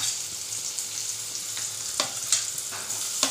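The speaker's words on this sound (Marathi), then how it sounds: "आता कांदा टाकून कांदा आणि लसूण थोडं लालसर होईपर्यंत शिजवलं जाईल" Onion and garlic fry in a pan for a tomato vegetable dish, a steady close sizzle with a few sharp crackles and stirring scrapes, no voices.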